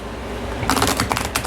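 Quiet room tone, then a crisp burst of rapid papery riffling as tarot cards are shuffled, close and fairly loud for the last second.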